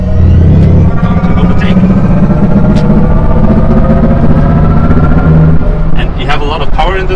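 A steady, loud synthetic engine hum with tonal layers drones throughout, rising slightly in pitch near the end, heard from inside a 2020 Mercedes EQC electric car.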